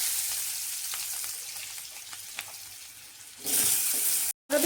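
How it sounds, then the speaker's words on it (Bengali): Potatoes frying in oil in a wok, a steady broadband sizzle with faint stirring clicks that swells louder near the end, briefly cutting out before resuming. "এবার আমি আলুটাকে ভালো করে ভেজে নেব।"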